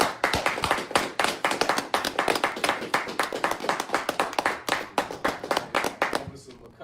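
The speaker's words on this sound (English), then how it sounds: "Clap it up." A group of people claps in a fast, steady rhythm at a street gathering in New York, loud and close, with voices mixed in, before the clapping stops abruptly at the end.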